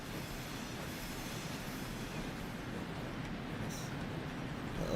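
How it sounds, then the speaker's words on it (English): A train climbing hills in the railway simulation game Transport Fever 2, a steady low rumble of rolling wagons and engine that holds at an even, moderate level throughout. "And this poor train's struggling with these hills."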